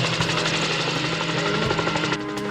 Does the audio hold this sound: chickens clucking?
no